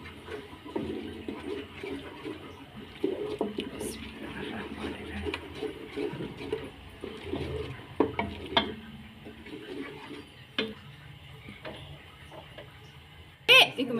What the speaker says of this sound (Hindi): इसको हम थोड़ी देर इस तरह भूनेंगे।